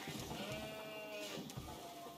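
Sheep bleating in the real-time strategy game Age of Empires IV, a short, faint, wavering bleat or two heard alone with low game ambience beneath.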